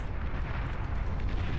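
Continuous, dense rumbling explosions from a large battle in the real-time strategy game Beyond All Reason roar without a break, heavy in the low end and loud.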